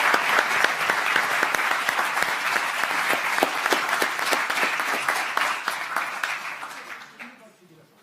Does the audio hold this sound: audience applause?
yes